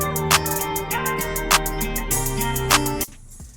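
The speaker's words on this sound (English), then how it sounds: "We got some open hats." Open hi-hats hiss in a looping guitar beat, washing over sustained chords and a bouncing drum pattern with a few brighter accents, then the loop stops abruptly.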